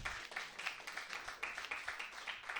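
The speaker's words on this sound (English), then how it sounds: "How about a round of applause for Dan Lamorte, everybody?" A comedy club audience in New York City applauds the stand-up host, a moderate patter of many hands clapping with small surges, heard from slightly back in the room.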